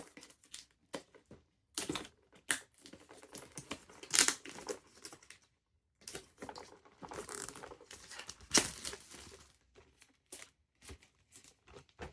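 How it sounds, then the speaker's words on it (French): Plastic blister packaging being pulled off and removed from a boxed 1/12 scale Inart Batman figure, close crinkling, tearing and rustling in irregular bursts with short quiet gaps, no talking. "On va enlever le blister et ouvrir la boîte."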